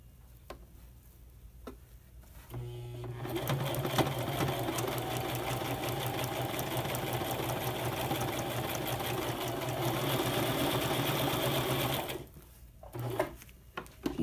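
A sewing machine stitches a fabric piece with a ruffle, starting after a few quiet clicks, whirring steadily and close for about nine seconds, then stopping, followed by light handling taps.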